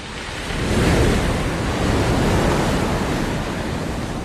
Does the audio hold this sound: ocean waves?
yes